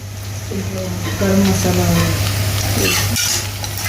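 Coriander and mint frying in a pan for pulao give a steady, close sizzle that runs the whole time, with a low constant hum beneath and some faint voice-like tones partway through.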